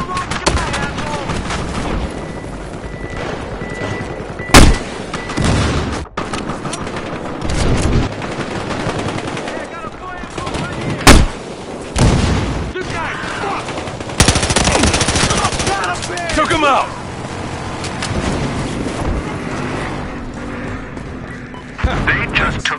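Video game battle gunfire: rapid machine-gun bursts and scattered shots with a few sharp loud blasts, running throughout alongside shouted voices and in-game radio chatter.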